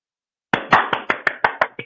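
About eight sharp claps from a pair of hands, quick and slightly uneven in rhythm, close and crisp, starting abruptly after a half-second of silence with no talking.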